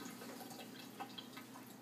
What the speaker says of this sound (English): Rinse your hands off just like that.